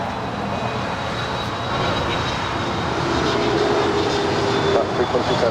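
A Singapore Airlines Boeing 777-300ER jet airliner taxiing at Los Angeles airport, a loud steady engine roar with a thin whine that swells slightly, while a person talks over it.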